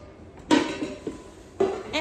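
A stainless steel hot pot and its glazed enamel lid are handled at a Japanese household goods stall, giving two distinct clanking metal knocks with a lighter clink between them, close and fairly quiet.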